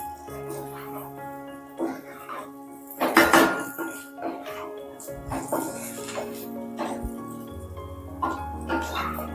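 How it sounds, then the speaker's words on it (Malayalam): Chicken fry being mixed with crushed chilli in a pan, giving scattered metallic scrapes and clinks of a utensil against the pan, with a louder burst of clatter early on and people talking throughout. "ഒന്ന് ഈ ചിക്കനായിട്ട് അങ്ങോട്ട് മിക്സ് ചെയ്യാം."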